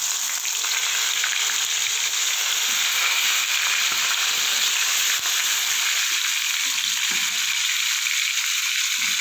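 Bitter gourd pieces fry in hot oil, giving a loud, steady, close-up sizzle that crackles continuously with no voices.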